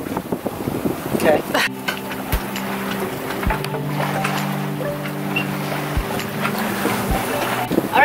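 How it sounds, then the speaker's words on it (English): A sailboat moves at sea under wind, with blustery wind rumble across the microphone and a low steady hum; a voice speaks briefly near the start. "That's what sailing is, a nice slow journey."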